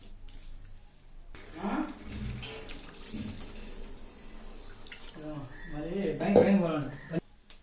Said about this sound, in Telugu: ఇప్పుడు ఇలా నీళ్లు పోసి